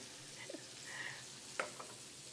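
Shrimp frying in a pan, a quiet soft sizzle with a few light stirring clicks and scrapes, faint and close with no voices.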